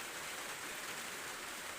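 Steady rain falls in a garden during the first rain of the season, a dense, even hiss with no gaps, faint overall and without voices.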